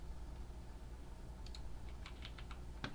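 Quiet tapping on a computer keyboard, a handful of soft irregular keystrokes over a low steady background hum, growing a little busier toward the end.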